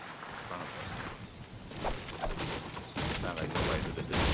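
Gunfire in the video game Fortnite, bursts of shots popping at moderate distance in several clusters, growing louder toward the end, with no talk over them.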